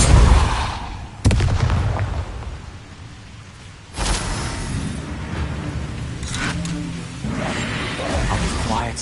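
Booming spell blasts from Depulso in Hogwarts Legacy, loud sudden impacts followed by rumbling, crackling decay, with a couple of further bursts amid continuous game noise.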